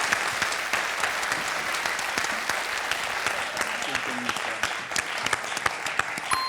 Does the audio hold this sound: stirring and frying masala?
no